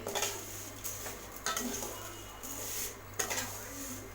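Vermicelli dry-roasting in a pan for biryani, stirred with a spoon that scrapes and clinks against the metal in irregular bursts over a low background hum.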